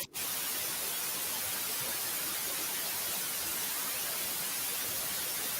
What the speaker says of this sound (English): It sounds like spraying.